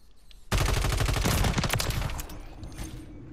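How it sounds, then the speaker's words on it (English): Video game gunfire in a weapon challenge match, a dense rapid burst of automatic shots that starts abruptly and rattles on loudly for about two seconds, then tails off into a fading echo. "These shots are horrible."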